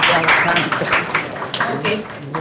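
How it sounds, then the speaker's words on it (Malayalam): An audience at a mega audio launch event for the Malayalam film Bhaskarabharanam gives a dense burst of clapping that fills the moment, loud and close throughout. "നല്ലൊരു കൈയടി കൊടുക്കാമോ"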